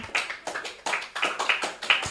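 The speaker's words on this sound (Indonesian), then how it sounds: "Tepuk tangan lagi." A small audience claps at a scout event, several distinct bursts of hand claps in loose rhythm, moderately near and not very loud.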